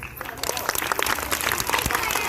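An audience at a school Republic Day 2025 event claps for a sixth-grade girl's performance, a dense, lively burst of applause that keeps on steadily throughout, with some voices mixed in.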